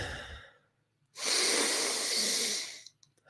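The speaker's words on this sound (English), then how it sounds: "where we breathe deeply from our belly into our chest, and then we let it go" Deep Wim Hof style breathwork, drawing air from the belly into the chest: a fading exhale, a short pause, then one long, loud, close inhalation lasting about a second and a half before stopping abruptly, with no talking.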